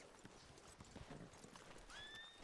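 Horses in the western video game Red Dead Redemption clop along with hoof sounds at low volume, followed by a whinny near the end, all quiet and distant in the mix.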